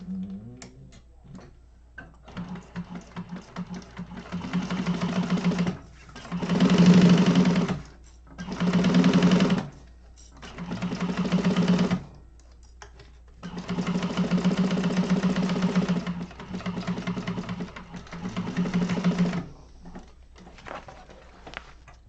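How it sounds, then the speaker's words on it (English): A sewing machine stitches lining fabric along one side of a bottom seam in several bursts of rapid, even whirring, each a few seconds long, separated by short pauses, close and clear with no talking. "And we're only sewing on the one side of the bottom."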